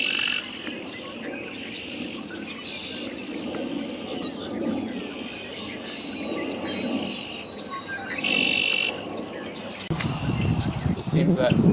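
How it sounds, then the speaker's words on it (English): Blackbirds and starlings call in a sanctuary, a dense chorus of chirps, whistles and chatter carrying on throughout, with a louder rustling burst near the end. "There are still hundreds of blackbirds inhabiting this sanctuary."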